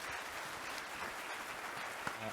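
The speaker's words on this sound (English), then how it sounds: "give us a round of applause" A seminar audience gives the panelists a faint, distant round of applause, a steady wash of clapping lasting a couple of seconds.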